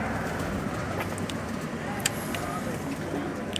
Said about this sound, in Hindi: पूरा पूरा बैलेंस कबूतर है माशाल्लाह जी